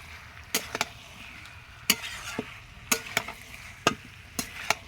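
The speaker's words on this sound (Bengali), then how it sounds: "পেঁপের সাথে মশলাটাকে সুন্দরভাবে কষিয়ে নেব।" A spatula stirs and scrapes papaya with spices in a pan, giving irregular sharp taps and scrapes over a faint, steady sizzle, close and without voices.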